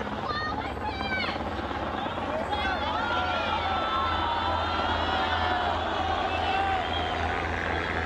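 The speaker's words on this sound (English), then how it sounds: "Helicopters were the only military vehicles moving." A military helicopter's steady drone blends with a noisy crowd of protesters at Tiananmen Square, shouts and whistles rising over the continuous rumble throughout.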